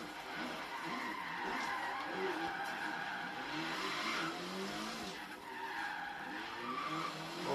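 A car drifts in Forza Horizon 3, tires squealing in long sliding screeches over the engine's whine, with brief pauses between slides.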